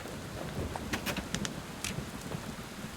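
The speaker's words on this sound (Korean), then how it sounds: "저번부터 비가 오네." Steady rainfall in the video game Bastion, a dense continuous hiss with scattered brighter splashes and crackles, filling the whole stretch at an even moderate level with no talk.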